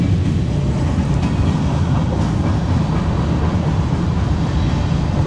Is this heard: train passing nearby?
yes